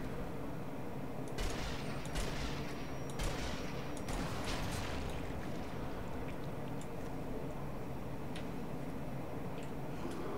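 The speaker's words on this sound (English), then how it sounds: "Is that you shooting at a sniper or a sniper shooting at you?" Sniper rifle shots crack from a distance in Sniper Elite Nazi Zombie Army, a few scattered sharp reports over steady ambient game noise, fairly faint overall.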